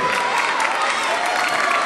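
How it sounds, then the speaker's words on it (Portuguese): Audience applause and cheering for Patrick at a PROERD graduation ceremony in Coração de Jesus: a loud, continuous roar of many hands clapping with crowd noise, sustained without a break. "Uma salva de palmas aí, Patrick."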